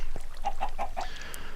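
Chickens clucking close by, a quick run of four evenly spaced clucks followed by softer squawks, over a steady low background hum.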